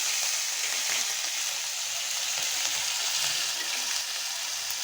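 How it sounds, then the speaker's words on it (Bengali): Kalonji seeds with ginger and cumin paste sizzle steadily in hot oil, a loud, continuous close-up frying hiss with no talking. "এখন আমি কালি জিরা ফোড়ন দিয়ে দিচ্ছি। দিয়ে দিচ্ছি আদা আর জিরা বাটা দিয়ে।"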